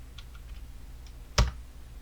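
Keys on a computer keyboard tap faintly as a timecode is entered, followed by one sharper, louder keystroke near the end.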